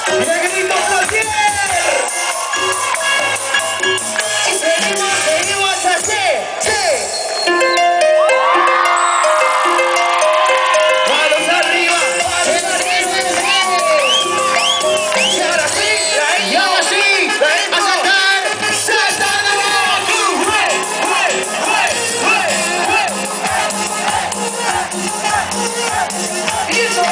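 Live crowd at a concert at Expo Plottier 2013 shouting and cheering together over loud, continuous band music, with voices swelling and falling throughout.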